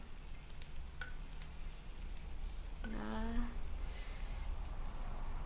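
Fish grilling over heat with a steady sizzle and crackle, a brief vocal-like tone rising in the middle, heard close throughout.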